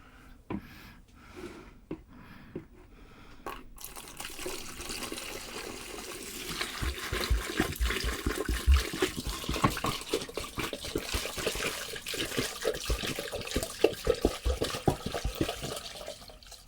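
Water pours steadily into a container for a carbon spirit filter, splashing and gurgling, building from a quiet start to a continuous rushing flow.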